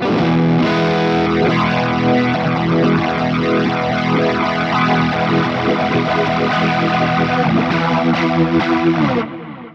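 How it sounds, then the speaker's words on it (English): Sustained distorted guitar chords from a Fractal FM9 swirl through a rotary speaker effect, the warble speeding up as it spins, loud and continuous before stopping abruptly. "The rotary spins up, a really fun sound."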